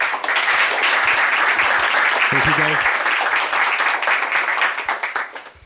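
Loud, dense applause from an audience at a Kotlin developer meetup in Budapest welcomes a moderator, with someone briefly speaking over it midway, and the clapping thins toward the end.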